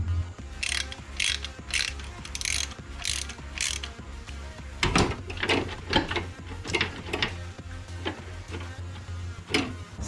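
Bolts being worked loose from an exhaust manifold on a Nissan Stagea RB25DET during a turbo upgrade, with a ratchet clicking in quick repeated bursts close by, metallic ticks and clunks between them, and no talking.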